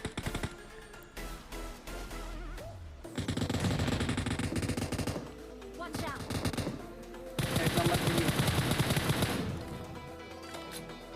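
Bursts of M249 machine gun fire in a video game, loud sustained volleys with short pauses, heavy fire around four and eight seconds, mixed with other battle sounds.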